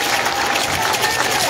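Crowd at a PAIGC coalition political rally in Bafatá, Guinea-Bissau, applauding the regional candidates with steady, dense, loud clapping throughout.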